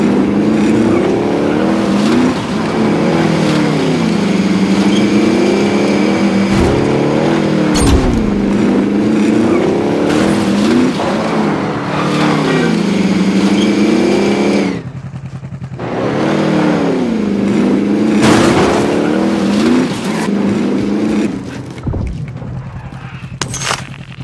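Vehicle driving in Call of Duty Warzone, a steady loud engine drone with rising and falling revs that runs throughout, cut by sharp gunfire bursts and a brief drop in the engine sound midway.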